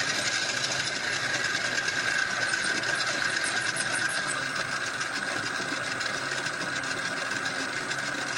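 A stand mixer kneading brioche dough at high speed gives a loud, steady mechanical whir with a rapid rattling drone, close and unbroken throughout.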